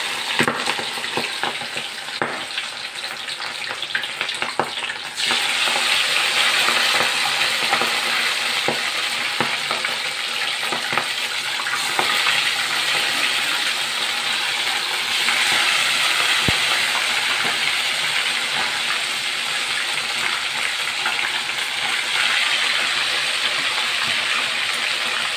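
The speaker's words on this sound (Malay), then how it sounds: "Kita goreng ayamnya sehingga habis." Marinated chicken pieces fry in a pan, a dense continuous sizzle and crackle that jumps louder after a few seconds and keeps hissing steadily with faint stirring clicks, no voices.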